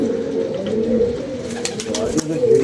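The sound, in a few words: pigeon cooing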